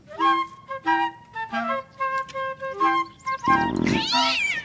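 A cat meows repeatedly in short, clear calls, several in a row, then a louder, drawn-out yowl at the end; close and fairly loud.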